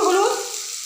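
Pumpkin and potato fry with salt and turmeric while being stirred, giving a brief, close sizzle; a short voiced sound opens it before the even hiss carries on alone.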